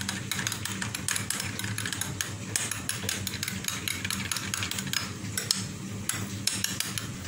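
A spoon stirs chili sauce into burger sauce in a bowl, giving a steady run of close, scraping clinks and taps against the dish with no talking.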